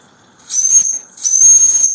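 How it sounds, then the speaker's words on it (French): A live-steam whistle on a Bowande Porter locomotive gives two loud, shrill, close toots, a short one followed by a longer one, each with a breathy hiss of steam. "c'est le sifflet de chez Bowand"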